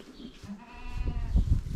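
A goat bleats once in a pasture, a short wavering nasal call near the start, followed by rising low rumbling handling noise close by.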